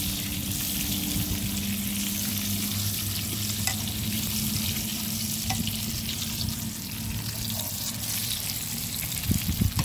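Dried fish, daing na dangit, fries in hot oil, crackling and sizzling steadily throughout with brief pops and occasional stirring clatter near the end.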